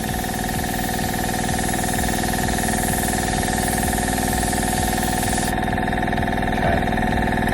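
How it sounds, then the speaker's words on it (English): A small air compressor powering a cheap Amazon airbrush, used to paint a handmade fishing lure, runs with a steady, loud, continuous mechanical hum and drone throughout, with no talking. "So you can hear the compressor going as well."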